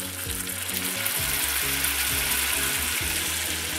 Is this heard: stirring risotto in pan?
yes